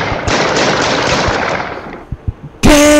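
Video-game gunfire in a crowded city, a dense rapid burst of loud shots for about two seconds, then a few scattered single shots and a sharp electronic tone.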